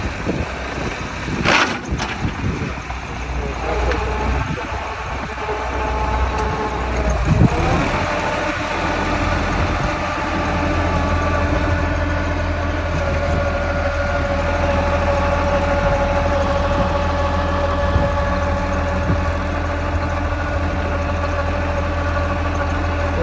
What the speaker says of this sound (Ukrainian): Трактор UMZ 6